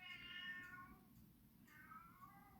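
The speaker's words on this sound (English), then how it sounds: "There's a cat freaking out there." A cat meowing and yowling in agitation, two drawn-out cries in a row, heard at a distance over a low background hum with no talk.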